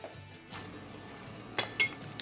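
A lid is set onto a pot of simmering dal dumpling gravy, giving two quick metallic clinks over soft kitchen noise, close and fairly quiet.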